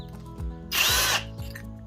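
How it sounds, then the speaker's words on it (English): A short burst of high-pitched drill whirring, about half a second long, between quieter mechanical clicks and handling noises. "So next you're going to put your drill bit into your drill."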